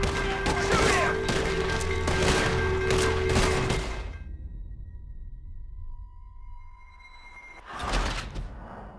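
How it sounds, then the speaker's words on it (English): Gunfire during a shootout in Red Dead Redemption 2: a run of sharp, loud shots packed into the first few seconds, then quiet, and another brief burst near the end. "They're shooting at us!"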